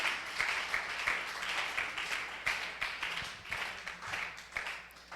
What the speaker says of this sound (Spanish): Denle ese aplauso al Señor, amén.